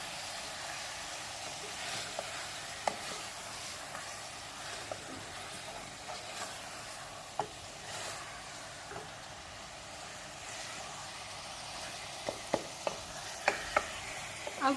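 Beef qeema-stuffed karela stirred in a pan over a low flame, a faint steady sizzle with occasional soft scraping clicks of the spoon, growing busier toward the end.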